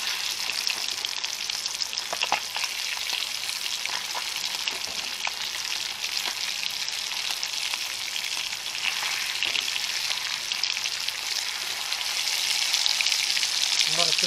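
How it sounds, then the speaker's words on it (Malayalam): Fish sizzles and crackles steadily in hot oil in a pan, a dense, continuous frying hiss with scattered pops that grows slightly louder toward the end, heard close. "അപ്പോൾ നമ്മുടെ ആദ്യത്തെ ട്രിപ്പ് മീൻ വറവ് ആയിൻ്റെ."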